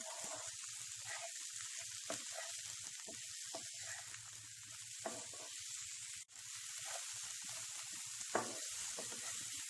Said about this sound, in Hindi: इसे मिक्स कर लें।